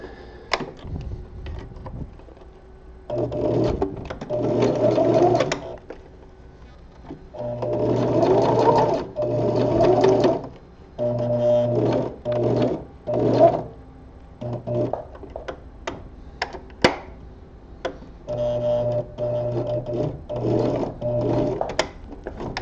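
A sewing machine stitches spandex fabric for gloves in several short, rapid bursts of mechanical whirring, with brief pauses and light clicks between runs, close and unaccompanied.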